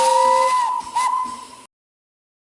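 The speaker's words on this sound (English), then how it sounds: "Gordon and Flying Scotsman whistled with joy." Two bright steam locomotive whistles sound together in an animated children's story, a long steady tone with a second higher note, hissing steam beneath, then silence after about a second and a half.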